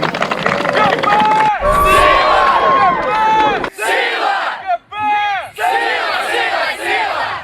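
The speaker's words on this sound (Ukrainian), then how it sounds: "вигукували заздалегідь складені спортивні кричалки, надихаючи друзів на перемогу" Crowds of first-year students at a university sports festival shout chants and cheer on teammates, loud and close, with sustained group yells broken by short pauses and rising, overlapping voices.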